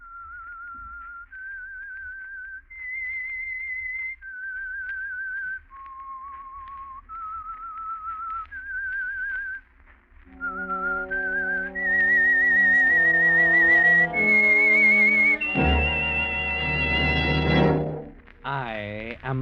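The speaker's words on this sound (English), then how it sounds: "That whistle is your signal for the Signal Oil Program" Signature whistle theme of The Whistler, the 1940s radio mystery show for the Signal Oil Program: a lone melodic whistle tune, then a swelling orchestral passage joins in for a loud, full-bodied close.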